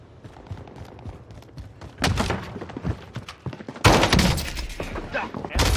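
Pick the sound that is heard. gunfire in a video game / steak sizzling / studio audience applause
gunfire in a video game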